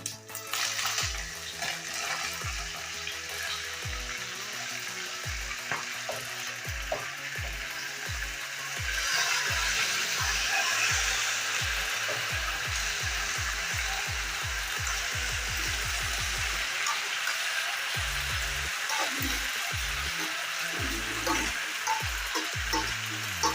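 Onions fry in a pan for a spaghetti and beef sauce, a close continuous sizzle with repeated rhythmic scraping and clacking of a spoon as they are stirred, the frying growing louder partway through.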